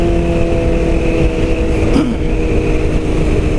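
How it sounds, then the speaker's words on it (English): A Suzuki GSX-R750 motorcycle gives a steady, loud engine drone with a buzzy, throaty exhaust tone, running continuously and nearby without clear rises in pitch. "Now this exhaust, as you can hear, is a little bit noisy."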